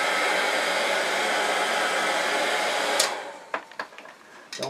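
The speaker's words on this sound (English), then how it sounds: "I'm going to take a heat gun, and I'm going to go ahead and heat this up" Steady close whoosh of a heat gun blowing hot air to soften plastic runs for about three seconds, then cuts off, leaving a few faint clicks and handling noises.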